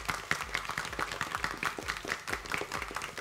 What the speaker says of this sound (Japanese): 皆さん、ポッキーチームに大きな拍手をお願いします。